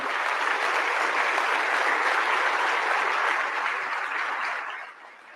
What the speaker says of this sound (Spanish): les invito a que demos un aplauso a todos a los que les debemos este simposio